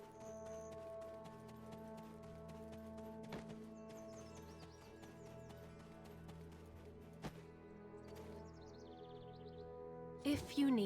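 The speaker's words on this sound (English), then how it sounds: "Goddamn stupid ass horse." Horse hooves clip-clop steadily in the video game Black Desert Online, a continuous rhythmic trot under game music, with a brief louder burst near the end.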